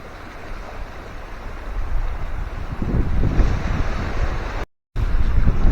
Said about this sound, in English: it is a bit breezy down here